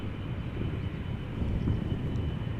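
A Finnair Airbus A321 rumbles at Schiphol Airport, a steady low jet engine drone at moderate distance, fairly quiet and unbroken, with no voices.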